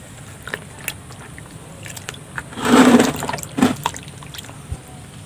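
Rice washing water, allowed to settle for about a week, is poured into a mix of stale cooked rice for organic fertilizer; one short gush of liquid pouring swells up, then a brief second splash, close by and without talk.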